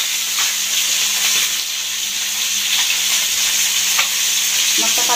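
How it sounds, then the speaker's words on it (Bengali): Fish cooks in a pan with a loud, continuous sizzle and hiss, close up, with a few light scrapes near the end and no speech. "এখন রান্না করতেছি মাছটা"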